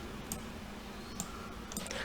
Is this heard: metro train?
no